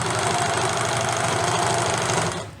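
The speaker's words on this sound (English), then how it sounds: "This elderly little serger needs serviced, but not happening right now while everything's shut down." An old serger sewing machine in need of servicing runs at a steady fast buzz, its rapid mechanical chatter loud and close before it winds down and stops near the end.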